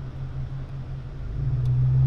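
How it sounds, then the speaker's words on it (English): A V8 engine in an iconic American car idles with a steady low rumble, building slightly louder toward the end, with no voices over it. "It's a V8 engine."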